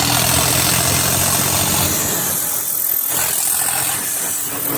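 A Swaraj 855 4x4 tractor engine fitted with a turbo runs loud and close, a steady, heavy rumble with a throbbing vibration that holds throughout.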